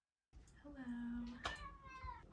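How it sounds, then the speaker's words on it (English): A cat gives a single drawn-out meow, close and clear, rising then falling after a brief silence, with a soft voice nearby in an indoor setting. "Cat."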